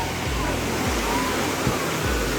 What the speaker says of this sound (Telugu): సో ఇది టోటల్ వాటర్ ఫాల్స్